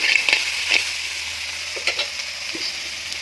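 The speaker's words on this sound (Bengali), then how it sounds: "আমি কিন্তু কম তেলে এই কাঁকড়াটাকে ভাজা করছি বেশি তেল দিচ্ছি না" Crab fries in a little oil, giving a steady bright sizzle with a few sharp spatters and stirring knocks.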